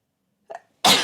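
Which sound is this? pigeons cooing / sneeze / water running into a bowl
sneeze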